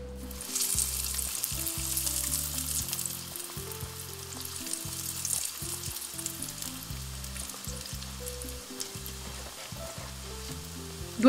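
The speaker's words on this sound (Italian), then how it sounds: "L'olio è arrivato a temperatura, inizio a friggere." Potato skewers with a melting cheese centre fry in hot oil, giving a steady, close bubbling sizzle that runs unbroken over quiet background music, with no talking.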